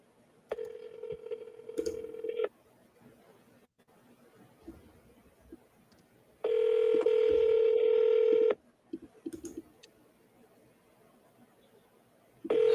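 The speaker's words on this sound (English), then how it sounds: "Can you hear that ringing?" A telephone ringing tone on the line repeats in steady two-second electronic bursts separated by quiet pauses, with faint background noise between rings.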